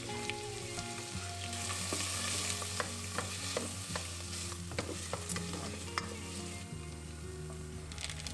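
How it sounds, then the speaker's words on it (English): Onions sauté with tomato paste in a pot for lentil soup. Soft, continuous sizzling runs under frequent spoon scrapes and clinks, with a low steady hum beneath and no voices. "we added the onion and sauteed for about 3 minutes"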